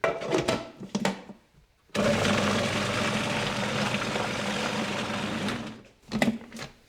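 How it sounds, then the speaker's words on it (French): A food processor with an S-blade whirs loudly and steadily for about four seconds as it blends squash with melted chocolate, with brief handling noises before and after. "Et maintenant, il suffit de mixer."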